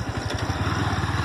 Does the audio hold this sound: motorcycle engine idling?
yes